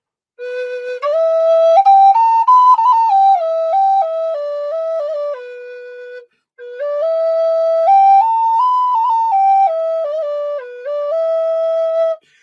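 A Native American flute plays a slow melody on a new pentatonic scale, two sustained phrases of stepwise held notes with a brief pause between them, clear and close with no voices.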